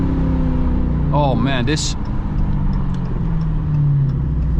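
An 888-horsepower Dodge Hellcat XR widebody with a supercharged V8 drones steadily up close, its engine and exhaust rumbling continuously while someone briefly speaks over it.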